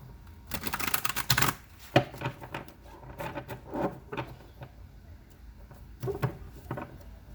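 Tarot cards are shuffled in several close, papery bursts of riffling and tapping, irregular in rhythm, fairly quiet with pauses between.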